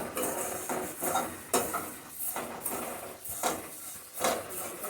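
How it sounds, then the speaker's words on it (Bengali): Vermicelli fries in a pan while a utensil stirs it, steady scraping strokes repeating about once a second over a soft sizzle, close and fairly loud. "দিয়ে দিচ্ছি সেমাইটা। বেশি সময় লাগে না ভাজতে, একদম অল্প সময়ের মধ্যে ভাজাটা হয়ে যায়।"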